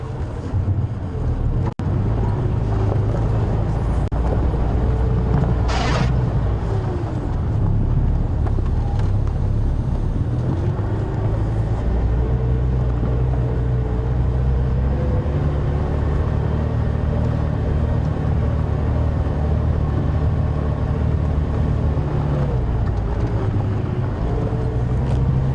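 Safari game-drive vehicle driving along a dirt track, giving a loud, steady engine rumble with heavy wind buffeting the microphone throughout and no talk over it.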